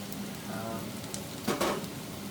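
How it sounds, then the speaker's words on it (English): Garlic and ginger fry in a pan as a steady soft sizzle, with a couple of brief louder scraping or stirring bursts near the end. "I may have to turn down the temperature a little bit to stop the garlic and ginger sticking to the bottom of the pan."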